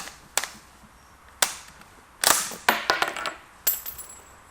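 Several sharp shots from a Mosin-Nagant M44 carbine crack out at irregular intervals, each a brief loud bang with a short decay, followed at one point by a quick cluster of smaller metallic clacks.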